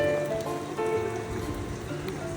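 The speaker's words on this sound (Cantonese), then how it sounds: "今日一早起身就落雨" Steady morning rain in Hakodate, Hokkaido, Japan, pattering on a surface, a continuous close hiss with faint tonal hums in the background and no talking.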